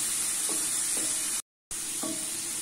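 Green beans, boiled in salted water, being stirred as they fry in a pan: a steady bright sizzle with soft scraping strokes and a brief dropout partway through.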